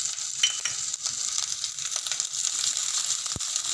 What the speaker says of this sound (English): Fry all the ingredients, all the spices, and add turmeric powder also.